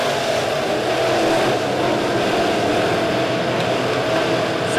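Midwest modified race cars at Springfield Raceway roar steadily as the pack accelerates after a green flag restart, a dense, continuous engine drone heard from a distance with no commentary over it.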